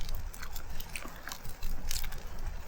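Close, crunchy biting and chewing of a freshly cooked camp meal on a mountaintop, steady wet mastication noises with a few sharper crunches, no talk.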